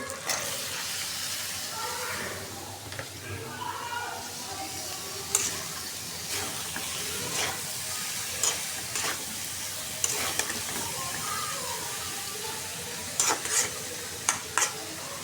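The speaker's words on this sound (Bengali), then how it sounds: "এই যে মশলাটা কষানো হয়ে আমি এখন দিয়ে দেবো" Spice paste frying in oil in a pan while being stirred, a steady close sizzle with scraping stirring strokes and occasional sharper clicks throughout.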